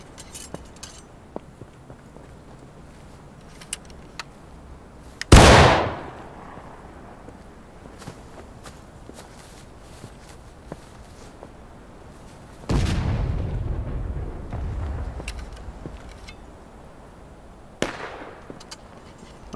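Three loud, sharp reports fire at a skirmish shooting training session, the second followed by a longer rumbling tail, spaced several seconds apart over quiet outdoor background.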